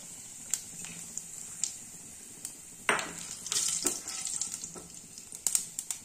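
Cumin seeds and bay leaves sizzle in hot mustard-style oil left from frying bhola fish, a low steady crackle with sharper spits and stirring clatter scattered throughout, close and alone.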